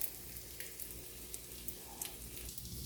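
French toast slices sizzle in a pan just after being flipped, a steady low crackling fry with scattered small pops, fairly quiet and continuous with no talking.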